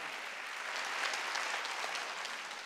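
Clapping from a congregation at a Wednesday church service, a dense, even patter of many hands throughout, fairly soft and steady.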